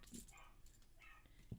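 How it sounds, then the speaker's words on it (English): A dog gives a couple of short, faint barks from another room, distant and quiet against a low background hum. "excuse the dog bark"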